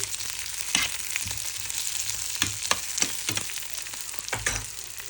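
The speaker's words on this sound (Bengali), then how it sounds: "এই পেপারগুলো দিয়ে দিব দিয়ে আর একটু ফ্রাই করে নিব" Peppers fry in hot oil with a bright, steady sizzle close by, broken by occasional stirring thumps and crackles, with no voices.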